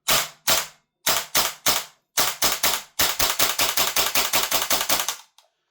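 A WellPro AK12 gas blowback airsoft rifle fires sharp, loud cracks, first in separated single shots and short pairs, then a rapid continuous burst of about a dozen rounds before stopping, with no talking.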